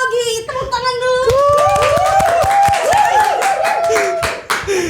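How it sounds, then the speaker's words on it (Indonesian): Studio audience claps along at the opening of a tech talk segment, quick hand claps mixed with laughter and voices over a rising musical tone. "Tepuk tangan dulu."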